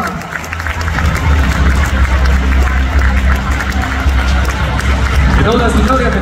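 A large indoor volleyball crowd applauds the youth volleyball section of Accademia Pallavolo Padova. Dense, loud, steady clapping and crowd noise fill the whole stretch, with voices mixed in.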